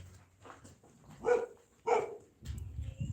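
A few dogs bark near a person out on a morning walk, with two loud bursts around the middle of the stretch and rougher yapping toward the end, set over low outdoor rumble.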